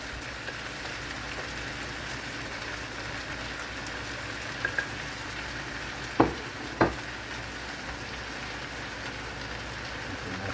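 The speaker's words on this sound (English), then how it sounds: "if you're cooking with onions and garlic, do not add your garlic at the same time as you add your" Chicken fried rice with onions and garlic frying in a pan, making a steady soft hiss with two brief sharp knocks near the end.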